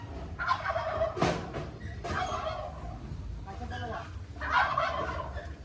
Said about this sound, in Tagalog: Uy, may pabo.